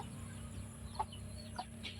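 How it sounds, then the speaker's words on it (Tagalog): Chicken clucking at a backyard garden in the Philippines, a few short, faint clucks heard at a distance over a steady low background hum, with no talk. "Manok!"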